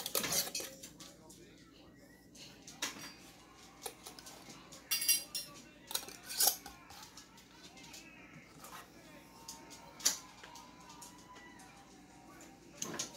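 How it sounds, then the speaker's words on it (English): Metal canning rings are screwed finger tight onto glass jars of pumpkin, producing scattered close metallic clinks, scrapes and glassy taps at an irregular pace. "you don't want to screw the rings on too tight, just finger tight"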